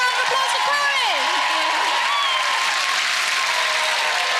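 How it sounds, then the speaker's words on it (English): Studio audience applauding and cheering for a contestant on a television game show, loud sustained clapping throughout with whoops and a few voices rising over it. "Massive round of applause for Chloe!"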